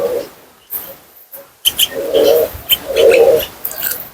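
Pigeons coo at a shrine, several loud, close, rolling throaty calls in short bursts with brief gaps, alone without talk.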